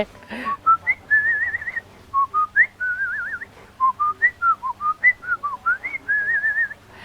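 A person whistles a melody, clear and close, in a run of wavering sustained and short phrases with brief gaps and no talk.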